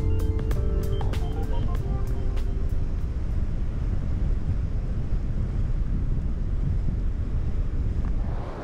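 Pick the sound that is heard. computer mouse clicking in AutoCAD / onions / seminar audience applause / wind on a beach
wind on a beach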